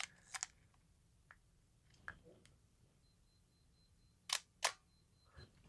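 Quiet camera clicks and mechanical shutter sounds from a Minolta X-570 film camera, with a faint high electronic beep warning of a 1/15 second shutter speed sounding briefly between two louder shutter clacks.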